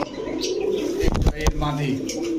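Male Afshan grizzle racing pigeons coo close by in soft, throaty bursts, with a few brief chirps and a wing rustle. Someone talks over the birds throughout.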